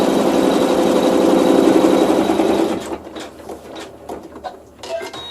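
A sewing machine running a tack down stitch to finish a pleat in quilting, a loud steady whirring run for a few seconds that stops, followed by softer scattered clicks and handling noises.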